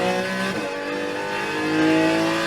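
A race car in a racing video game on the Charleston Peak track, its engine droning steadily and climbing in pitch as it accelerates uphill toward a turn, loud and continuous with no talking.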